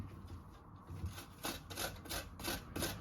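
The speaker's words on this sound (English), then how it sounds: "you're going to get your grater. And you're going to finely grate it." Fine grating on a kitchen grater for an Asian slaw, a quiet close-up rasping scrape repeated in a steady rhythm of about five strokes over a few seconds.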